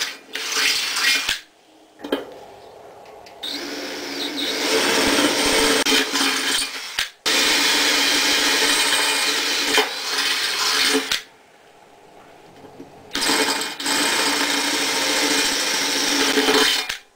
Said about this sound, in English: I got a couple of holes drilled there so I can get my sawzall in